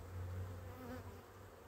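Honeybees buzz steadily around an open beehive while a brood frame is lifted and inspected, a close, continuous low drone that swells briefly and holds throughout.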